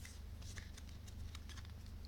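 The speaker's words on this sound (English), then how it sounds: "Let's just give these ones a shuffle." A deck of colour cards gets a soft, quick shuffle nearby, faint papery riffles and small clicks over a low steady hum.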